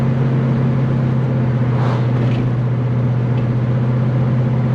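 A 1970 Chevelle SS V8 cruising around town at about 2,000 RPM, a loud, steady low engine drone heard from inside the car, with no talking.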